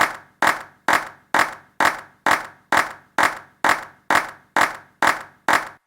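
A sampled clap from a sample pack, left channel on its own, repeats about fourteen times in an even, steady rhythm. Each hit is crisp and bright with a short decaying tail and clean silence between, with no voices.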